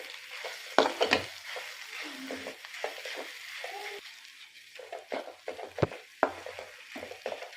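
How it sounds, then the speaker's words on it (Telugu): Chilli tempering being stirred in hot oil on a low flame for a dried fish and green chilli pickle, with steady soft sizzling and several sharp scraping knocks of the spoon against the pan. "కలిసేదాకా తిప్పుకుందాం."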